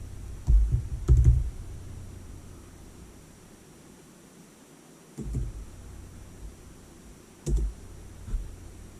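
Keys tapped on a computer keyboard while entering a Wi-Fi password during a Linux Mint 19.3 setup, heard as a few soft, scattered bursts of clicks over a quiet background hiss, with pauses between groups.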